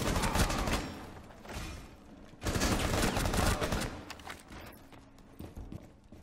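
Rapid gunfire and bullets flying in Rainbow Six Siege: two long, loud, dense volleys of shots close by, followed by scattered quieter shots fading toward the end.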